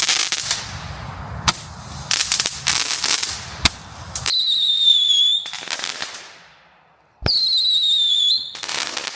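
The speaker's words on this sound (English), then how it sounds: "This is just a Roman candle." Roman candle fireworks shot outdoors on a farm: sharp crackling bursts and pops, then two rising whistling shots, each followed by loud crackle and a sudden bang, all close by.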